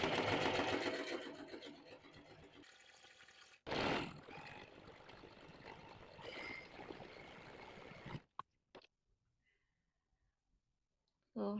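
Sewing machine stitching layers of fabric for a maxi skirt, a steady busy whir running for several seconds, pausing briefly and resuming, then stopping into near silence with a few small clicks.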